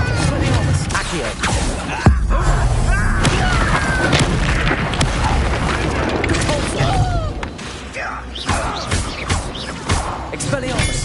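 Confringo blasting-spell explosions in the Hogwarts Legacy video game: a loud, dense, continuous barrage of booms and crashing impacts with one sharp hit early on, thick combat noise throughout.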